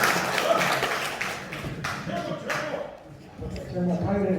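A hall audience at a Confucian leaders' training session claps after a lecture, scattered hand claps fading as someone speaks over them, then a few more claps return near the end.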